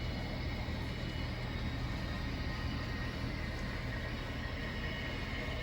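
An HO scale model train climbing a 1% grade rumbles and hums steadily along the track, a continuous low mechanical drone with no pauses or voices.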